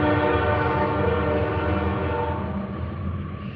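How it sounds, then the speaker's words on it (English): A train rumbles past close by with its horn blaring in a loud, sustained chord, the heavy rolling noise of the wagons continuing underneath and easing slightly toward the end. "You guys can hear the choo choo train."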